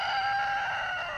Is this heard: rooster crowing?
yes